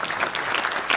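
An audience at an improv show about climate change applauds, a dense, even wash of many hands clapping, loud and continuous through the moment.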